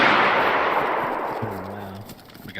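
Minigun fire in the DayZ video game, a dense sustained roar of rapid shots that gradually fades and thins toward the end, loud and close, with a low hum entering near the close.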